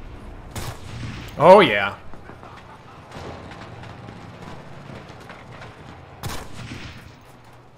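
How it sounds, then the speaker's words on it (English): Rifle fire in the WWII shooter Enlisted: a few sharp, distant-sounding shots spaced seconds apart, with someone talking briefly over the gameplay. "Old school rifle gameplay can be so fun if you land some shots."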